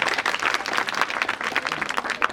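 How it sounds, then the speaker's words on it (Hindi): Audience claps for a student at a women's empowerment gathering, a lively, uneven patter of many hands striking together in quick bursts throughout. "इसके लिए दो डबल ताली बजाओ।"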